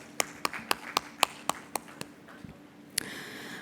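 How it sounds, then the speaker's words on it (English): Scattered hand claps at a solar energy conference, about eight sharp strikes in a quick uneven series, then a couple more after a short pause; thin and sparse rather than a full crowd. "with a huge round of applause"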